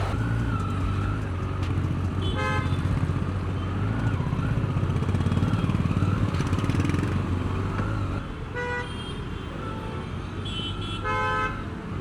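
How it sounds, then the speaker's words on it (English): Busy road traffic with a steady engine roar from cars and motorcycles passing nearby, broken by several short horn toots and honks, some quick repeated bursts, near the end. "I never expected this much traffic."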